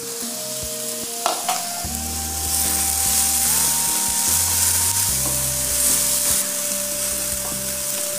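Chopped vegetables and beans fry and get stirred in a pan for a veg frankie, a steady close sizzle with scraping strokes and a sustained electric hum underneath, no talk.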